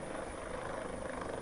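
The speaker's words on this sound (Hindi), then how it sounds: "हेलीकॉप्टर की इमरजेंसी लैंडिंग करवाई गई है" A helicopter making an emergency landing at Rudraprayag whirs steadily with a throbbing rotor drone, fairly close and continuous, with no voices.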